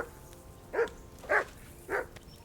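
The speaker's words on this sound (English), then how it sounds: "That damn dog before he wolfs down the last of our mates." A dog named Mutt barks in Kingdom Come: Deliverance II, three sharp, evenly spaced barks at close range over a quiet ambient background.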